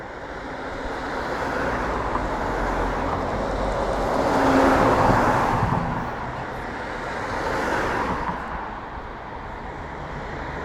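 Steady roar of heavy traffic on a busy main road on the Isle of Wight, with vehicles swelling past close by in waves and no talk.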